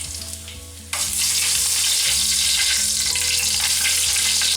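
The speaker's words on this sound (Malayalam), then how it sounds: "എണ്ണ ചൂടായി കഴിയുമ്പോഴേക്കും കടുക് ഇട്ട് കൊടുക്കാം. ഇതിലേക്ക് ഒരു വറ്റൽമുളക് കൂടി ചേർത്ത് കൊടുക്കാം." Mustard seeds and a dried red chilli hitting hot oil for a Kerala winter melon curry, a quieter hiss that bursts into loud, steady close sizzling and crackling after about a second.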